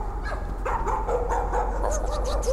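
A dog in the horror game Layers of Fear whimpers and yips in a run of short, pitched cries over a low, steady hum, the calls growing busier and higher toward the end.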